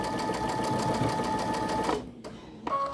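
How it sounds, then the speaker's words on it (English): Domestic sewing machine stitching the two side pieces onto a quilt block, a steady rapid mechanical whir with a constant pulse for about two seconds, then stopping, with a brief restart of the motor near the end. "I'm going to sew these in place first. So we're going to sew these two side pieces on"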